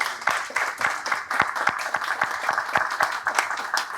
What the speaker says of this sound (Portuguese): acho que o Aloysio merece uma salva de palmas de todos nós